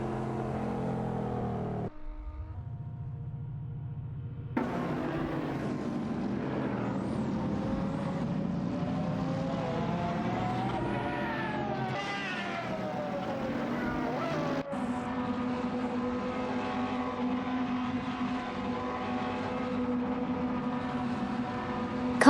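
Race cars in a racing video game accelerate hard out of a corner, a steady loud engine drone with rising and falling rev sweeps and a sudden gear-shift jump midway, running continuously.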